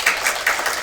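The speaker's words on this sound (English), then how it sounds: "I'll never get used to applause, but keep it coming" Audience applause for the visiting artist Suzanne Heintz at an artist talk, a brief burst of dense, steady clapping from many hands, loud and close.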